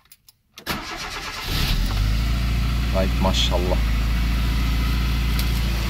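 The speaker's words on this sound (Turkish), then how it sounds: "basıyorum marşa" A Tofaş Doğan car that has sat unused for 2.5 months cranks briefly with the starter, then catches and settles into a loud, steady idle close by, while people talk over it.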